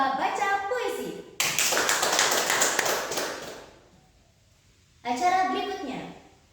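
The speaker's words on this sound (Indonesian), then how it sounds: "Beri tepuk tangan yang meriah untuk penampilan juara kedua lomba baca puisi." Applause for the second-place winner of a school poetry reading contest: a crowd claps in a burst of about two and a half seconds that then fades out. Someone speaks over a microphone before and after the clapping.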